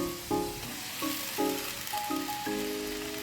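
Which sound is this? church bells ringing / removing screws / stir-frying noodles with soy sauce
stir-frying noodles with soy sauce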